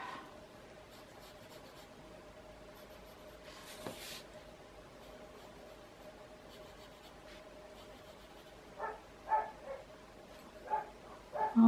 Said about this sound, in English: Neighbor dogs just bark all the time,